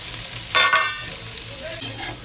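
Two medium onions, thinly sliced, sauté in hot oil with cumin in a pan, giving a soft sizzle with a brief louder burst of stirring and frying early on.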